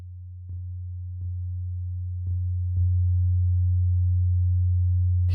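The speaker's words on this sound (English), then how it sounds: "Then we need to choose which waveform, the sine wave." A pure, low 90 Hz sine tone hums steadily, stepping up slightly in loudness a few times with soft clicks at each change.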